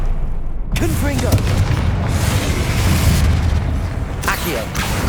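A Confringo fire blast spell in Hogwarts Legacy erupts as a loud, sustained fiery roar that swells and rumbles without pause, with a voice calling out over the blast.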